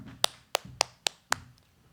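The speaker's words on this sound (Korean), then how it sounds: "소개하고 인사드릴 때 있는 자리에서 큰 박수로 환영해 주셨으면 좋겠어요." A few people in a church congregation clap in welcome, five sharp separate claps spaced roughly a quarter second apart, close and fairly quiet against a low room murmur.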